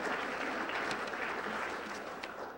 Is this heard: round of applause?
yes